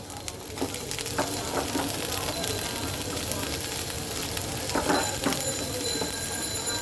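Chopped vegetables hit a hot pan of fried onion, garlic and ginger paste, giving a loud, dense, continuous sizzle with scattered crackles and occasional clatter.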